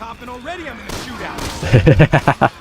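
Rapid bursts of Resident Evil 6 gunfire crackle in a quick rhythm, layered over game sounds and a voice talking earlier.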